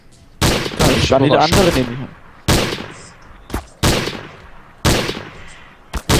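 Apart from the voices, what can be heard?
gunfire in the video game Trouble in Terrorist Town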